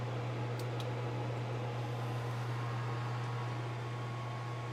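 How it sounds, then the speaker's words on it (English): A microwave oven's magnetron cycles with a steady electrical hum and even whirring drone filling the whole stretch, constant and unbroken, with no voices. "And the magnetron is cycling."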